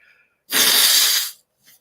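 One loud, breathy sneeze bursts out close to the microphone, followed by a brief faint exhale.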